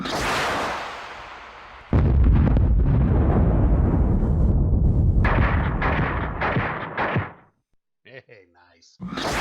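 Artillery fire in the Cold War wargame Fulda Gap '85: a dense, sustained roar of booming blasts and crackling bursts, loud and close, breaking off into scattered pops near the end.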